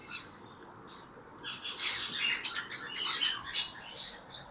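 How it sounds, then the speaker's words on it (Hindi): A pair of green Fischer's lovebirds chirps in rapid, high, overlapping tweets and squeaks, fairly close, over faint room background noise. "हमारे पास एक ग्रीन फिशर का पेयर है, जो कि पोस्टिंग के हिसाब से भी बेहतरीन है।"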